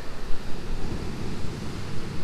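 Ocean waves break and surge onto the shore after a severe winter storm, a dense, rumbling wash of surf with wind buffeting the microphone, heard alone.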